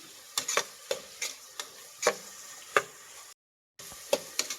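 Greens and green peas fry for pulao in a pan, a soft steady sizzle broken by sharp scraping knocks of a spatula stirring, close and clear with no talk.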